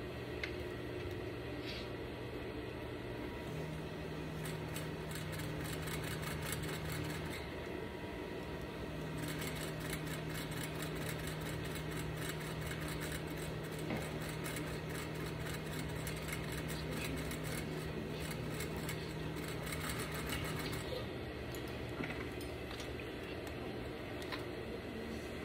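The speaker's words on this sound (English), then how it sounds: "You can even stitch in the ditch for this." A sewing machine stitching in the ditch along a seam while sewing a double welt pocket, humming as a steady, fairly quiet motor drone that runs unbroken for about twenty-five seconds.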